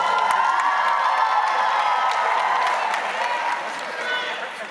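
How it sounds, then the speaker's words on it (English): Loud, dense applause and cheering from a university commencement crowd, sustained clapping mixed with shouts and whoops that stays strong throughout and eases slightly near the end. "Give yourselves a big round of applause."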